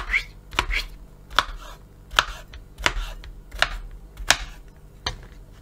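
A knife chops through soft zucchini on a board in sharp, evenly spaced strokes, about eight cuts, close and clear with no talking.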